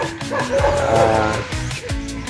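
Several dogs yip and bark excitedly on an open beach on a cool morning near calm water, with short overlapping barks and whimpers close by and a faint voice in the background.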